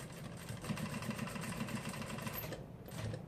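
A sewing machine stitches the hem of a flared skirt, its motor whirring in a steady, fast, rhythmic chatter up close, with a brief pause near the end before it resumes.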